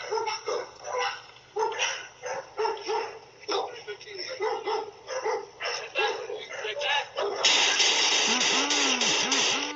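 An 8-month-old dog barks in short bursts amid several people shouting during a police encounter in Florida, then a steady loud noise with wavering tones takes over near the end.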